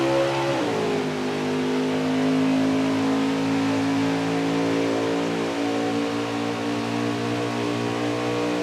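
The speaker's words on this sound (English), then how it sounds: "they cycle up through the gears once again" A Winston race truck engine at Texas, heard from an onboard roof camera, revs hard and climbs steadily through the gears, loud and continuous with rising pitch and no talk.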